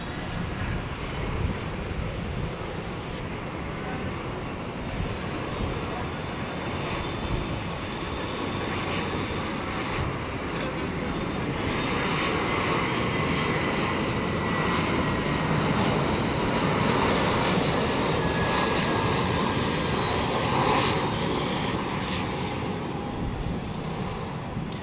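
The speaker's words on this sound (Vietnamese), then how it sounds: "Bây giờ chiếc máy bay này bước vào hạ cánh tại đường băng 25 phải." A U.S. Army C-12 Huron aircraft landing on runway 25R, heard as a steady, moderately loud propeller-engine drone with broadband rushing noise that swells slightly midway and holds, no talking.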